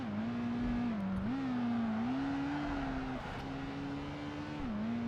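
A race car engine in Project Gotham Racing 2 holds a loud, close, steady drone that dips and climbs as it shifts through gears while driving, with no talking.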